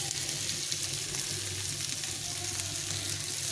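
Banana flower fritters set into a pan with a little oil, frying in a quiet, continuous sizzle with a faint low hum underneath and no voices.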